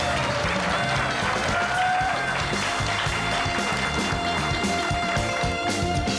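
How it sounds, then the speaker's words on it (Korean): Audience applause congratulating an award winner at the FameLab Korea 2014 science communication competition, a dense, steady wash of many hands clapping that lasts throughout at even loudness, with faint tones beneath. "이상곤 씨께 다시 한번 축하의 박수 부탁드릴게요"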